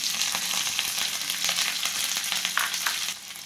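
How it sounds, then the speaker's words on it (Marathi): Green chillies sizzle in hot tempering oil for dadpe pohe, a dense, close crackling hiss with quick spatters and stirring clicks that eases off at the end. "आता आपण मिरची हे करू फोडणीमध्ये।"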